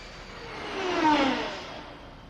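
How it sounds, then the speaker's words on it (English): A very fast aircraft streaks past in a film scene set during the Pacific war, a broad whooshing roar that swells to a peak midway and then fades away, with no voices over it. "Enemy plane, sir?"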